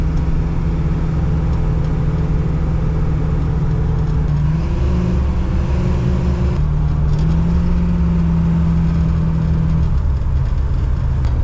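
A classic car's engine drones steadily from inside the cabin while driving, its pitch stepping up as it accelerates, loud and continuous with no talking.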